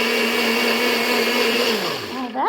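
A small bullet blender mixing crepe batter whirs loudly at a steady high pitch, then winds down and sputters to a stop near the end.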